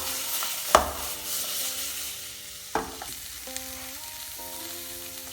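Vegetables for a vegan chow mein sizzle in a hot pan, a steady frying hiss with a few sharp spatula knocks and scrapes against the pan, over soft background music.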